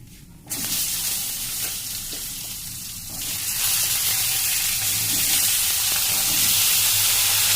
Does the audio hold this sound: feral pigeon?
no